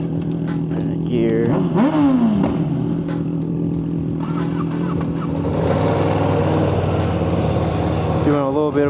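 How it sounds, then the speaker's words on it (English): A Ducati Panigale V2 motorcycle engine runs after a cold start on a sunny California day, a steady, loud, close rumble with small rises in revs, while people talk over it. "Doing a little bit of a cold start for my bike"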